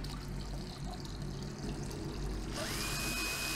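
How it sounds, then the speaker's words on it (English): A small electric pump in a six-liter electrolytic silver cell starts up and pushes tap water over a board, giving a steady hum with trickling water and a brighter whine joining partway through. "I will energize the pump and start pumping water over that board."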